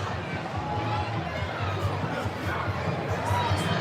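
Crowd following the end of the Nyack Halloween parade along a street, a dense outdoor murmur of many voices and chatter with faint scattered shouts, steady and moderately distant.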